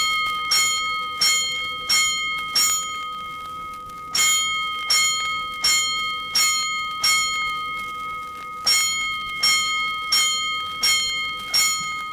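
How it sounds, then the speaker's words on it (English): Loud fire alarm bells strike in repeated clusters signalling five bells, each ring decaying quickly, with brief pauses between groups, like an old mechanical alarm bell signal. "Five bells."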